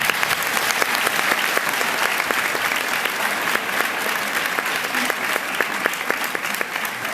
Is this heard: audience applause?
yes